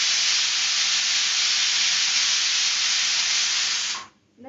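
A loud, sustained pressure cooker whistle hisses steadily close by for about four seconds, then abruptly cuts off.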